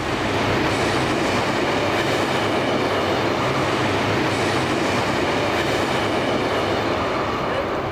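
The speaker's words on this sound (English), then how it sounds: "The noise of the train, for example, bother you?" A train rumbles past steadily for the whole stretch in a New York City tunnel, loud and close, with dense rolling noise and a faint clatter of wheels on track.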